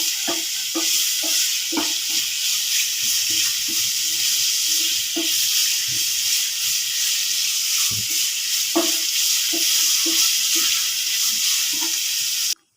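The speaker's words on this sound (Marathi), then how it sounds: "आपण एकदा तीळ टाकूनही थोडंसं हलवून घेणार आहोत, थोडंसं भाजून घेणार आहोत." Sesame seeds roasting in a hot pan give a loud, continuous close-up sizzle and hiss, with repeated stirring scrapes and taps throughout and no talking.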